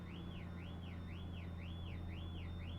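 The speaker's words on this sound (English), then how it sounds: "Now a car alarm." A car alarm sounds outside, a steady rising-and-falling siren sweep repeating about every half second over a constant low hum, fairly distant and continuous throughout.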